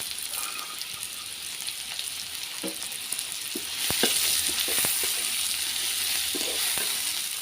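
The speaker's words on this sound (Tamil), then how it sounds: "வெங்காயம் பச்சை மிளகாய் எல்லாமே வந்து நல்லா வதங்கிருச்சு" Onion, garlic and green chillies sauté in a pan with a loud, continuous sizzle, broken by scraping stirs and clinks of a spoon. The frying grows a little louder halfway through, and no one speaks.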